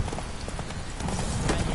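Roach the horse galloping in The Witcher video game, rapid rhythmic hoofbeats thudding steadily up close over game ambience, with no talking.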